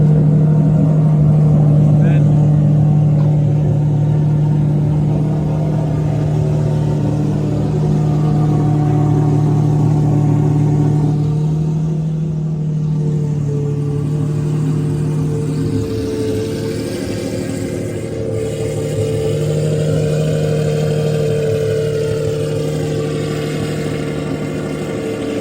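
A Ferrari engine at a cars and coffee meet holds a steady, loud idle, then its pitch climbs in a rev toward the end, with people talking nearby.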